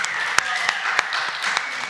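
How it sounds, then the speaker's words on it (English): Light applause from a small studio audience at a recovery talk show, with a few sharp individual claps standing out above a soft, steady patter. "So give those people a round of our applause"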